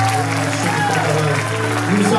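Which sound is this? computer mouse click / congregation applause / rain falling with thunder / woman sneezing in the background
congregation applause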